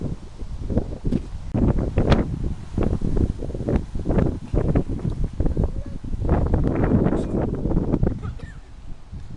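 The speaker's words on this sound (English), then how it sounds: "And it's very windy." Strong outdoor wind buffets the microphone on a flower-lined nature walk, gusting in rough rumbling bursts that rise and fall throughout, loud and close.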